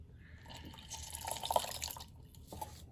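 Water squirts and dribbles from a plastic bag through a torn hole as it is squeezed, a faint, uneven trickle with small splashy spurts close by.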